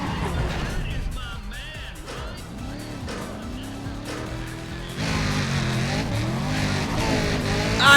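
Racing car engine from Need for Speed ProStreet screaming at the red line during a drag run, a sustained high whine that rises in pitch and then surges louder with a gear change, with a voice talking over it.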